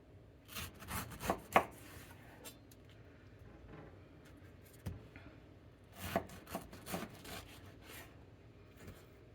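A knife cuts through a pineapple to square off its core, making scattered close, soft crunching and slicing strokes in two clusters with quieter gaps between them.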